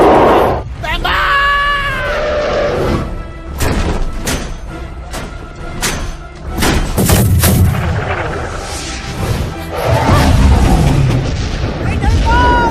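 Booming cannon blasts in an animated adventure movie, several heavy shots in quick succession, mixed with shouting and yelling voices and dramatic score.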